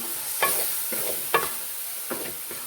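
Chana dal and bitter gourd get stirred in a pan of masala, four distinct scraping strokes of a spoon at a steady rhythm over a soft, close sizzle.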